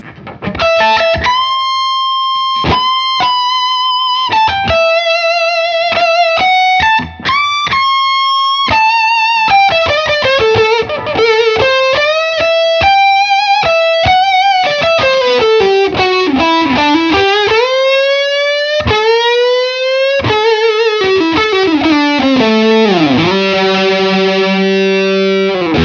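Electric guitar run through an overdrive pedal with its cool switch engaged, playing a continuous distorted solo of bending, sliding lead lines and chords, loud and unbroken for the whole stretch with no talk.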